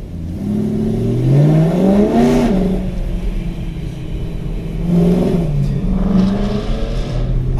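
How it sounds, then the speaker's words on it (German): An Audi RS5 revving nearby on the road, engine note climbing and falling in two loud surges, heard from a following car with steady road noise underneath. "Oh, schöner RS5 da gerade vor uns."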